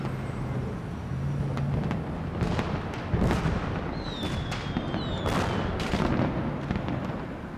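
Fireworks pop and crackle at a distance in a steady run of bursts, with a couple of rising whistles cutting through; the whole scene sits fairly quiet and low.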